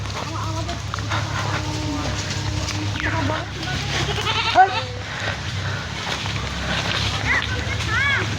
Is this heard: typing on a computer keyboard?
no